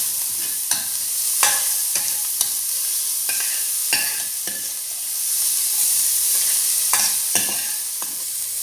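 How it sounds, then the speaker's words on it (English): Chopped carrot and green chillies sizzle in a hot pan for upma, with a steady loud frying hiss broken by repeated scraping strokes of a spoon stirring every second or so, close up and without talk. "add 2 full green chillies chopped and then now saute it well"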